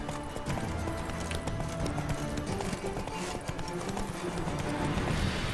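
Horse hooves in The Witcher 3, a continuous clip-clop of riding over a dense, busy game soundscape with a faint voice now and then.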